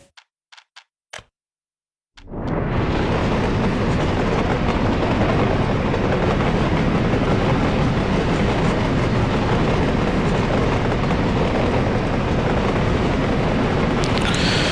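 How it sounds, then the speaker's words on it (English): A train rolls along in the city-building game Workers & Resources: Soviet Republic. A few sharp clicks come first, then a loud, steady rumble with a clickety-clack rhythm sets in and continues without a break. "we can have a fantastically, wonderfully rendered train here rolling along a completely blank landscape"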